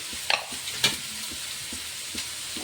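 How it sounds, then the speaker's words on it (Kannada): A spoon stirs and mixes a vegetable palya in a pan over low sizzling, with a few sharp scrapes and knocks against the metal, close and clear with no talking. "ಈಗ ಇದನ್ನು ಈ ರೀತಿ ಮಿಕ್ಸ್ ಮಾಡೋಣ"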